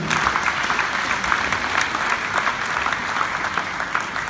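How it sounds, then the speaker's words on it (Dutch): An audience at a sportswoman-of-the-year award event applauds a guest taking the stage, loud close clapping with some distinct individual claps, steady throughout and free of talk. "Jullie applaus voor Inge van Meetsel."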